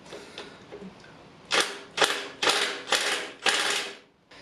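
A power tool on its lowest setting hammers at seized, oil-soaked camshaft bolts on a Toyota MR2 engine, five sharp rattling bursts in steady succession, close and loud after a quiet start.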